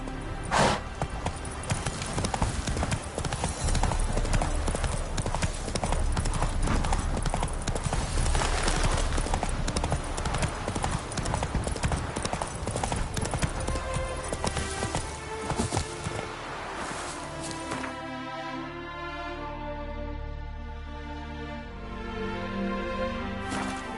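Roach, a horse in The Witcher 3, gallops with steady hoofbeats under a dense wash of game music and ambience. The music turns calmer and more tonal near the end.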